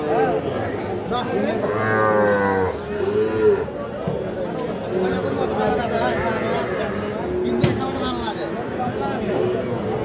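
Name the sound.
cattle at a livestock market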